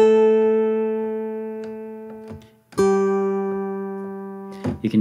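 Reason Objekt physical-modeling synth playing sustained woodblock-like tones with subtle aftertouch vibrato; two long notes ring out and slowly decay, the second struck after a brief gap, ending with a short flurry.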